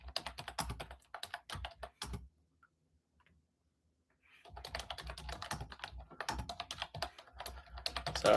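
Rapid clicking of computer keyboard keys, in two bursts separated by a short pause, close and fairly loud with no voices.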